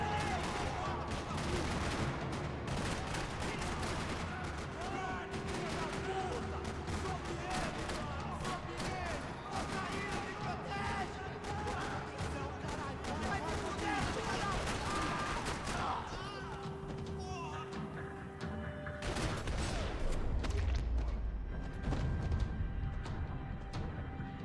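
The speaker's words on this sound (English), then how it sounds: "Another parking lot rattling with gunfire." Sustained gunfire rattles through a parking lot in the Max Payne 3 video game, with dense overlapping shots and bursts in a continuous loud barrage, and heavier booming impacts near the end.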